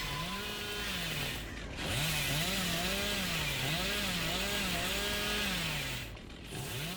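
A chainsaw engine from the video game Dead by Daylight (the Hillbilly's chainsaw) drones continuously, its pitch wavering up and down as it revs, loud and close, with a brief dip and a second surge.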